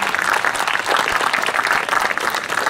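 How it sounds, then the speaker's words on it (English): Steady, loud audience applause for children at a school results event, continuous clapping throughout with no break. "so please give a bigger round of applause."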